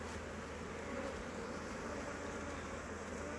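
Honeybees buzz around an open hive frame holding pollen and brood: a faint, steady, even drone filling the whole stretch, with no voices.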